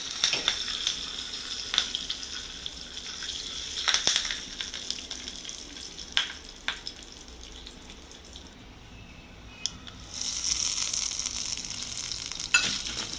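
Hot oil sizzles and crackles steadily as spices are tempered, with a few sharp pops and clinks of a utensil, no voices.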